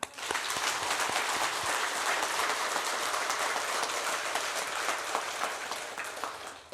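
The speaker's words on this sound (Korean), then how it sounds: "감사의 박수입니다." Congregation in a church service applauding in thanks, a dense, steady wash of many hands clapping at close range that holds evenly throughout with no voices over it.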